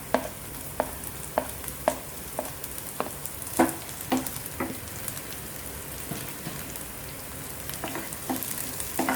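Garlic, ginger and chillies saute in a pan with a steady background sizzle. Sharp spatula taps and scrapes recur at fairly regular intervals, close and moderately loud, with no talking.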